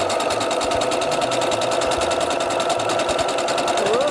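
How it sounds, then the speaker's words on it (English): Sewing machine stitching at full speed, a loud, steady, rapid mechanical whir and needle chatter running continuously without pause. "lower the presser foot, put the needle down, put the needle down, and there we go."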